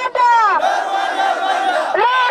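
A large crowd of asylum seekers chants in unison at an anti-deportation rally in Tel Aviv, loud and close, with sustained voices swelling and dipping in a steady rhythm.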